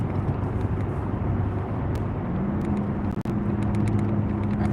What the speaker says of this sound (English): That truck is still revving.